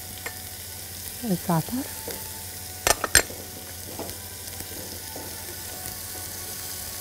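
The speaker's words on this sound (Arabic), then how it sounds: "دلوقتي احط الثوم، ثوم مفروم، الفلفل،" Minced garlic and pepper hit hot butter in a pan and fry with a steady soft sizzle, a few sharp clinks of utensils and a brief spoken word over it.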